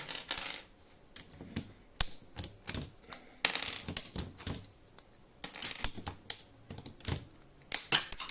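Keycaps being pried off a Royal Kludge RK61 60% keyboard, a string of sharp plastic clicks and clacks in irregular bursts, close and fairly crisp.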